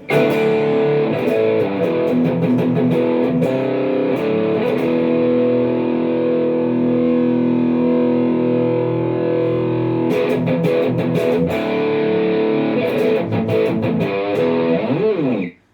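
A heavily distorted Ibanez Premium AZ242BC electric guitar plays sustained, gritty chords through an amp with some choppy strummed bursts, loud and alone, ending abruptly.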